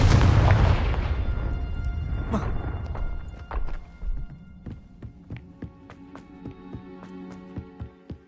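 A Confringo blasting spell erupts in Hogwarts Legacy as a loud, deep boom, its rumble fading over a few seconds into a string of scattered debris clicks and crackles, quiet and spaced out.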